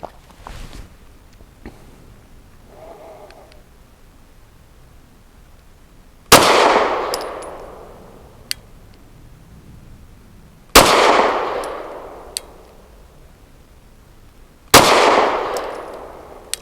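A Rost Martin RM1C pistol fires three separate loud shots, each a sharp crack followed by a ringing decay, spaced several seconds apart with small clicks and handling noises between them.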